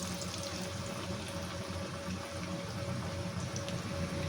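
Pakoras frying in hot oil give a steady, close, dense hiss with a low hum beneath it, unbroken and even throughout, with no voices.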